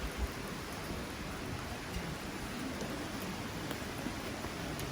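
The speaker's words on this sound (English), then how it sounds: "as of course it's starting to rain" Steady rain falling outdoors beside a grill and smoker, a dense, even patter with no voices, continuous and fairly close throughout.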